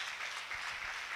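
A church congregation applauding, a brief steady patter of many clapping hands filling the room with no voices over it.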